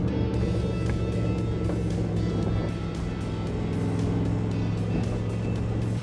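A car from the 1980s with pop-up headlights drives along the road, its engine droning steadily with continuous road and wind rumble, recorded close up.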